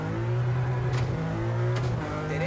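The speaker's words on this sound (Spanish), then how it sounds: "Y ahora sí probamos este GR Yaris en el tramo de Letonia. Flipas cómo suena." Toyota GR Yaris rally car engine in the EA Sports WRC video game on a Latvian rally stage, a steady mid-pitched drone with a slight rise and brief crackles, loud and close throughout.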